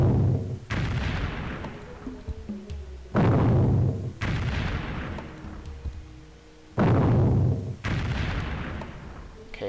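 Artillery barrages from Civilization III strike a city in a WW2 scenario, landing as four heavy booming bursts that hit loud and close, each one rumbling out and decaying before the next.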